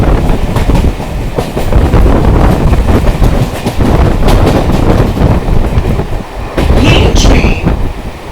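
A local train runs from Sealdah toward Bangaon, its loud, steady rumble and rhythmic wheel clatter filling the carriage throughout, with wind buffeting and brief high squeals near the end.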